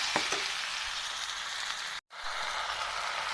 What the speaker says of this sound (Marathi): हे आता मी टाकले भेंडी तर चला आता हे ना हलवून घेते मी